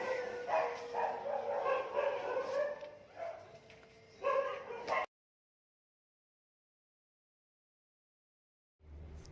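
Dogs bark and yelp in quick uneven bursts for about five seconds, moderately close, then everything cuts to silence before a faint low sound returns at the end.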